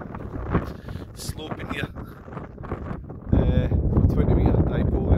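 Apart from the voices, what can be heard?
wind blowing on a hilltop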